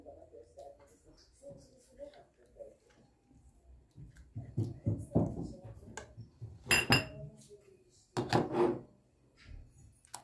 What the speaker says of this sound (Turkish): Karıştırarak tuzunun erimesini sağlıyorum.